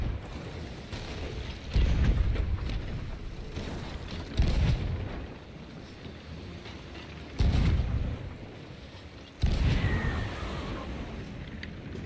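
Ship cannons firing in a pirate video game, four heavy booms spaced a few seconds apart, each with a deep rumbling tail, over a constant background of wind and sea noise.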